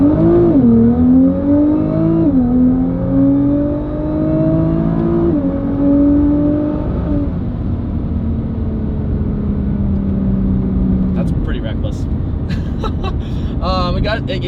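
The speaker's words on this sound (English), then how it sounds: "the sound that it makes out of the twin turbo V6, it just sounds like a race car" A 2019 Nissan GT-R with a twin-turbo V6 pulling hard in first gear: a loud rising engine howl with gear-linked pitch climbs and dips, easing into a lower drone, followed by clicks and shifting noises near the end.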